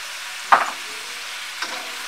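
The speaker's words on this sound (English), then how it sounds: "Give it a little stir." Spring onions, white onions and thyme are stirred in a pan for coconut curry shrimp. Two short scraping strokes, the first louder, sound over a faint sizzle.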